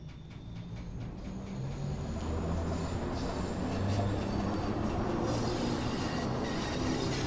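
A London Underground 72 Stock train on the Bakerloo Line rolls along in a simulation, a low continuous rumble of wheels and motors that swells gradually and holds steady with no talk.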